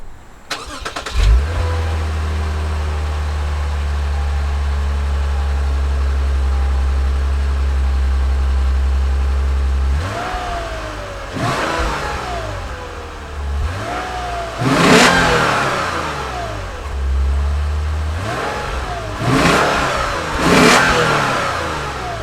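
A 2017 Lexus IS with a 3.5-liter V6 fires up and settles into a smooth steady idle, then blips through several sharp, rising revs that fall away between bursts, loud and close with no voices.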